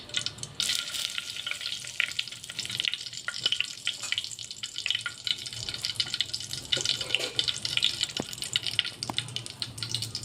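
Two bay leaves dropped into hot oil in a pan while preparing steamed stuffed masala eggplant, giving a steady close crackling sizzle with scattered small pops throughout.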